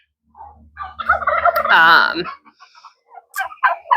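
Chickens give a few close, loud squawks and clucks, with short bird calls scattered after a brief pause.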